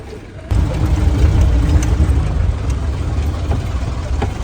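A jeep carrying six passengers grinds along a bumpy mountain road toward Siri Paye in Shogran valley, its engine rumbling loud and close after a sudden start, with steady low drone and occasional knocks from the rough track.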